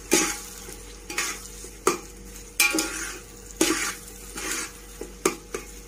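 Garlic fries in a pan for mutton curry, a soft sizzle under repeated scraping stir strokes from a utensil against the metal pan, in an irregular rhythm of close, crisp bursts.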